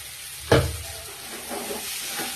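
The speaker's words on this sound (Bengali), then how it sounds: "এইভাবে ভাজতে থাকবে" Eggplant cooked with coconut, sweetened with a little sugar and hot with green chilli, fries in a pan, opening with a sharp stir or clatter before a soft, steady sizzle with faint scraping.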